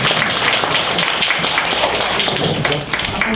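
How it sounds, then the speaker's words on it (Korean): Audience applause fills a food-tech forum hall at a Gangnam startup hub, a dense, steady clapping from a crowd that stays loud and even throughout. "박수 한번 쳐주세요."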